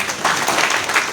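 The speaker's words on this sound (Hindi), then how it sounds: "एक बार इनके ताली बजा दीजिएगा।" A crowd claps for a person who has come up on stage: a short, dense burst of applause at close range, lasting only about a second.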